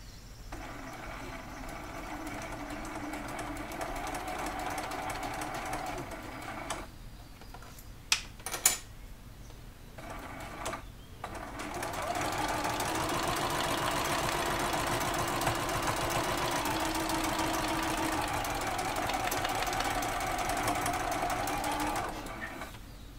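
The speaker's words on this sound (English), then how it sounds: "Let's just see how that goes sewing these pieces together." A sewing machine joins quilt pieces in long steady runs, with a humming, rapidly ticking stitch that stops briefly midway before resuming for a longer stretch, close and even in loudness.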